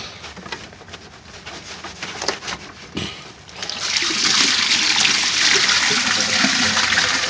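Old antifreeze drains from a car's bottom radiator hose. Scattered drips and trickles at first, then a steady, splashing pour into a container that continues to the end.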